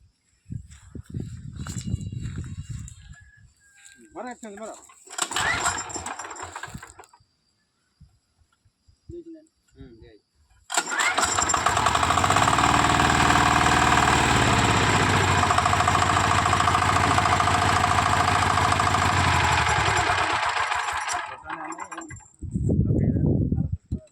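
Diesel engine started with the decompressor held open: a few short mechanical bursts and handling noises, then the engine catches and runs with a steady loud chugging for about ten seconds before it stops, with a voice talking in between.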